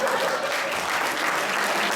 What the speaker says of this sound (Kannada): ಚಪ್ಪಾಳೆ ಸರ್